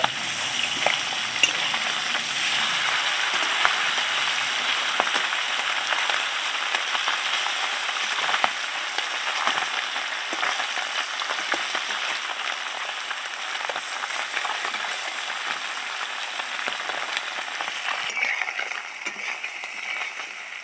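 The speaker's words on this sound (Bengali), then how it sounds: "এক পিঠ ভাজা হয়ে গেছে, আর এক পিঠ উল্টে নিচ্ছি।" Kholshe fish frying in oil after being flipped, a long, steady sizzle close to the pan with scattered crackles and spits, easing slightly in loudness toward the end.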